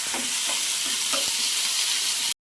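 Steady sizzling of ginger paste frying in a hot pan, close by, with a few soft stirring scrapes, then sudden silence.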